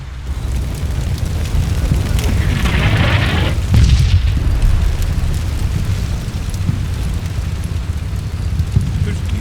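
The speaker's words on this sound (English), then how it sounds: "Oh, gunshots." Gunshots and explosions in the war game Combat Mission Black Sea give a constant rumbling roar with a muffled boom near the middle, all heavy and low over continuous background noise.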